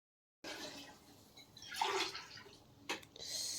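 Water pouring into soaked rice in a pot for donne biryani, a steady splashing flow with a stronger gush midway and a brief splash near the end, close and fairly quiet.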